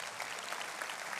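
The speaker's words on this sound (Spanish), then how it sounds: "Démosle un aplauso a los muchachos" Church congregation applauding during an Easter Sunday sermon, a brief, even wash of many hands clapping, fairly faint and distant, with no talking.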